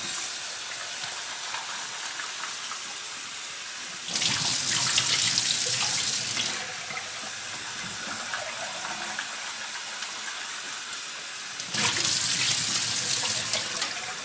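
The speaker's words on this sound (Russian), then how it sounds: "Берем другую банку, тоже сливаем. И тоже хорошо промываем." A glass jar used for fermenting cucumbers is rinsed under a running tap, with two bursts of strong splashing water among quieter trickling and handling.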